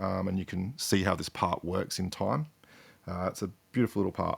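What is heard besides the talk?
None of the usual background noises is heard.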